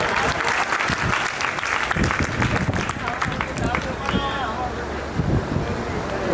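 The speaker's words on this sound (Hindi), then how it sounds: "एक बार तालियां बजा दो इसके लिए।" Loud, close audience applause at a Durga Puja festival stage show, steady crowd clapping throughout with a voice briefly heard over it midway.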